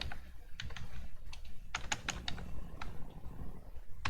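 A keyboard shortcut is typed on a computer keyboard, giving a handful of sharp, close key clicks spread irregularly over a few seconds against a low background hum.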